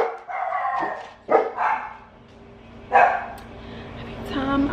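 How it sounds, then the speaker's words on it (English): Indoor house dogs bark in several sharp bursts, close and loud, interrupting someone talking about a hair conditioner, with her voice running between and beneath the barks. "every time I try to make a video, one of these fucking dogs always wanna bark."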